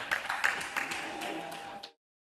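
An audience at a heritage pageant claps for the contestants on stage, a faint patter of applause from a distance that fades out abruptly.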